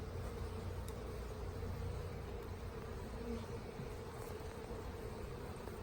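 Honey bees buzz over a frame pulled from a small nucleus hive, a faint continuous droning hum with no voices.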